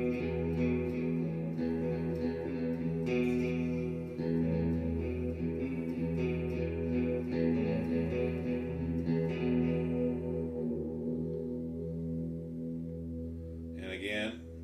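Electric guitar with its pickup coil-tapped, fitted as part of a Tiger guitar upgrade, playing sustained chords and notes with a chorus-like shimmer for about fourteen seconds, then a brief bright strum near the end.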